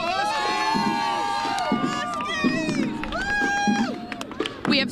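Crowd at a Hartford championship parade in Bushnell Park cheering and shouting for the Huskies, a loud, continuous swell of many voices with whoops and yells rising and falling throughout.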